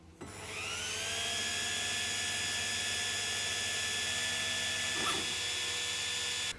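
An Algolaser Alpha Mk2 laser cutter cuts 5mm plywood, giving a steady, close whine and hum of fans and motors that starts abruptly and runs on without a break, with no talking.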